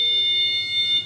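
A community alarm beam sensor in a home near the stairs gives a steady high-pitched electronic alert tone that sounds continuously and close, with a low hum underneath.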